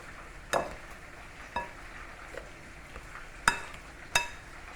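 Potatoes being mashed together in a pot for Jamaican-style cream potato, heard as a few soft, separate squelching pushes and scrapes at an uneven pace, close and fairly quiet.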